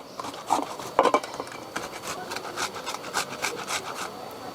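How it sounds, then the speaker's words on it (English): A tomato is rubbed over a grater for a smash burger cooked on a fire, giving steady close rasping strokes in a quick repeating rhythm, a few louder scrapes among them. "When the onion's done, we grate the tomato."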